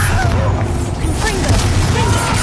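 A Bombarda explosion spell going off in Hogwarts Legacy, heard as a dense, loud booming blast with rumbling low end that fills the short moment, mixed with game effects.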